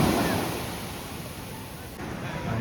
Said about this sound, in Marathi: मस्त असं बीच आहे.